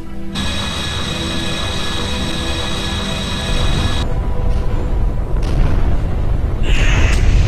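Heavy warship guns open fire in Freespace 2: a deep, rumbling barrage of booming blasts over a droning engine hum, growing louder and denser in the last few seconds.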